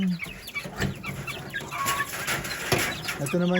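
Three-day-old chicks peep in a continuous, busy chorus of high chirps, close by and fairly loud, with some clucking mixed in.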